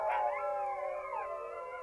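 Sled dogs in a Greenland hunting village howl together in a sustained, overlapping chorus of long wavering cries, fairly close and loud, with no talk over them.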